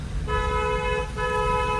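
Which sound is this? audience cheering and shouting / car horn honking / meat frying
car horn honking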